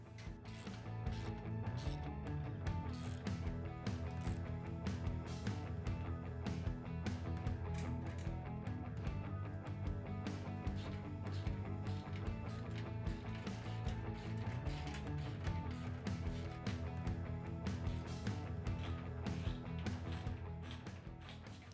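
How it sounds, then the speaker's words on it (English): Roof rack bolts on a Polaris RZR XP 1000 with a Tusk aluminum roof being tightened using a 5 mm ball Allen and a 13 mm combination wrench, a steady run of rapid metallic ratcheting clicks, close and continuous, with no talking. "We're just using a 5 millimeter Allen and 13 millimeter combo wrench to tighten everything down"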